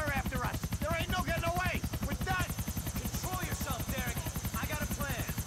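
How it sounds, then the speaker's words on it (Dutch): A police helicopter in GTA IV thumps with rapid, even rotor beats throughout, loud and close, while someone talks over it. "LCPD, een helikopter."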